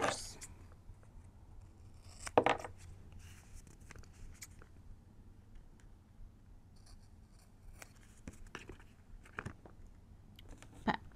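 Scissors trimming a recycled toilet paper roll into a journal pocket: a few sharp, close snips and cuts scattered among soft handling rustles, fairly faint overall.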